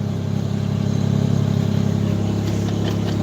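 A Ford Ranger's 4.0 pushrod V6 idles close by, a steady low rumble with a gentle rhythmic pulse that swells slightly midway, with no voices over it.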